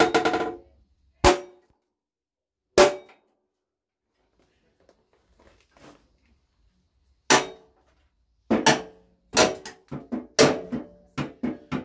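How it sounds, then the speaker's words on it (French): Hammer blows striking the cast metal of a pellet stove: sharp, loud metallic clanks, two early isolated hits, a quiet gap with faint handling, then a rapid cluster of strikes near the end. "plusieurs coups de marteau, si ça casse net c'est de la fonte, si ça plie c'est de l'acier."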